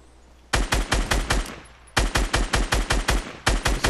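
Gunfire from a GTA video game: rapid automatic bursts of sharp, loud shots, one burst, a short pause, then two more sustained volleys close by.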